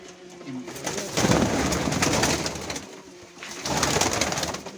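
Mykolaiv breed pigeons coo loudly and close by in two long rumbling stretches, with a brief lull between them and busy rustling underneath.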